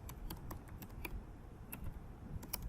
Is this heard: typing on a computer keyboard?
yes